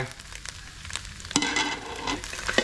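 Chinese kale tossed into a wok with scrambled egg and instant noodles crackles in a close, moderately loud stir-fry sizzle, with a sharper burst of frying partway through.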